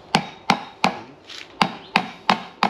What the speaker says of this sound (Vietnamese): đập dập cái sả mà băm một củ